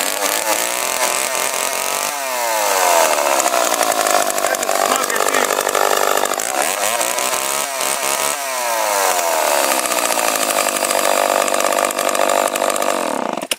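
A STIHL MS391 chainsaw runs loud and close, its engine revving up and dropping back in repeated sweeps, with high-pitched two-stroke whine and no voices.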